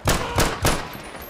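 Three sharp, loud modded pistol shots from a video game ring out in quick succession, each with a short decaying tail, followed by a fading echo.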